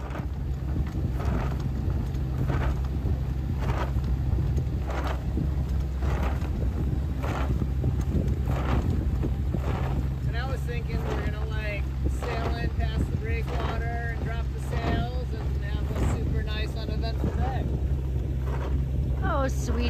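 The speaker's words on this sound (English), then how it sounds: "After lowering the sail, they made the rest of the way to Rockland under motor." A sailboat motoring with its sail lowered through stormy Hurricane Lee conditions, with steady loud wind buffeting and a constant engine drone throughout, and voices talking at intervals over the roar.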